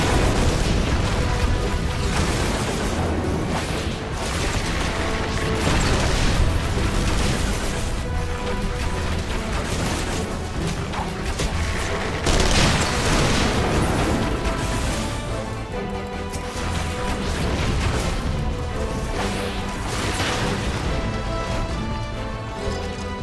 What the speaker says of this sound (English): the amount of explosions going off right now in this area is insane